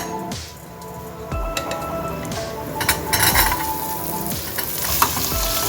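Sambar onions fry in a hot tempering of curry leaves and dried red chillies, hissing in a loud, steady sizzle, with a utensil scraping the pan every second or so.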